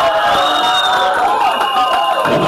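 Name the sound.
applause at civil wedding ceremony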